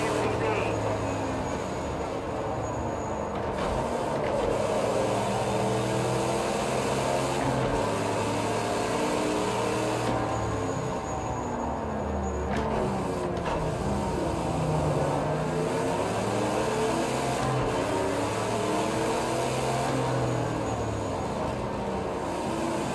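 A 1969 Camaro in the Project Cars 2 racing game at Brands Hatch, its big engine droning loudly and continuously with pitch climbing and falling through gear changes and revs.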